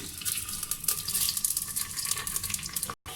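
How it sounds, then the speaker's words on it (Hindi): Onions frying in half a cup of hot oil for aloo qeema, a steady loud sizzle that fills the clip with no voices, cutting out briefly near the end. "ऑयल गर्म हो जाए तो आपने इसमें प्याज डाल देना है।"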